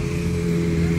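A group of Kawasaki Z900 motorcycles arrives, a brief, steady engine rumble with a droning hum close by, heard alone without speech.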